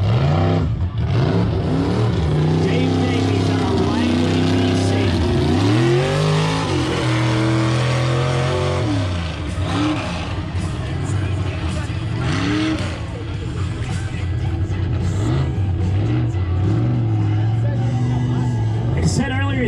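Race truck engine revving hard at a freestyle off-road event, loud and continuous with rising and falling pitch sweeps, crowd babble and an announcer's voice underneath.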